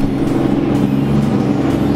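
Turbocharged Scion FRS with a stock engine and turbo kit, built as an S-chassis drift car, idling loud and close with a steady, throaty low drone that swells slightly in brief revs.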